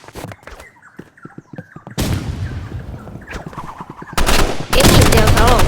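Sniper rifle gunfire in a competitive shooter video game, loud and harsh, with sharp bursts and sustained noisy blasts building toward the end, set against scattered clicks and game effects.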